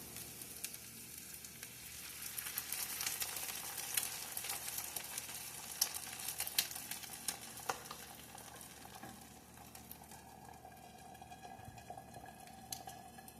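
Eggs frying in a pan on a low stove setting give a continuous soft sizzle and crackle with small popping spatters, steady and close throughout.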